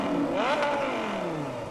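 A 2003 Lamborghini Gallardo supercar engine revs up loudly in a rising sweep, then its pitch falls away smoothly as the car passes at close range.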